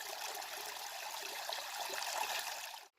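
Irrigation water pumped by a machine runs along a field channel in a steady, close rush and gurgle that fills the whole moment and then cuts off abruptly at the end.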